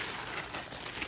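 Packing paper from a shoe box for suede Zonkey Boot loafers crinkles and rustles close up in one continuous burst, with no talk over it.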